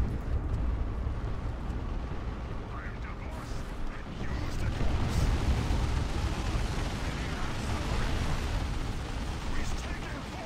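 Continuous battle noise from Dawn of War 2 Retribution, a real-time strategy game: dense weapons fire and rumbling explosions roar steadily throughout, swelling louder midway.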